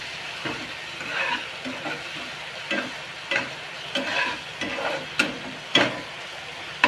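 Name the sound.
masala paste being roasted in a pan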